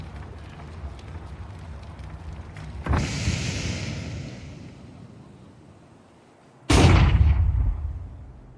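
A grenade detonates during a Counter-Strike 2 playoff match, with two sharp booming bursts over steady game noise; the second blast is louder and both fade with rumbling tails.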